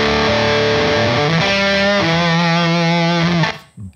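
The Crackle preset of the MOD Audio Hip2B fuzz and bit crusher pedal turns sustained notes into a harsh, buzzing, heavily distorted tone, loud and close, with the pitch stepping down before cutting off near the end.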